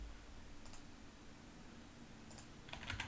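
Computer keyboard typing during a live lecture: a few faint, scattered key clicks over a steady background hiss, growing into a quicker cluster of taps near the end.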